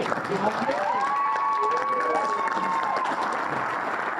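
Applause from the audience at a wine fair press conference, a steady crowd clapping with some cheering mixed in, while a voice rises and trails across the middle.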